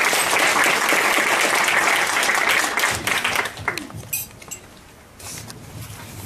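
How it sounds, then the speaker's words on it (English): An audience at an evening talk on the San people and their plants breaks into dense, sustained applause that thins into scattered claps and fades, with faint clinks of cutlery and dishes in the room. "So let's just give him a round of applause again."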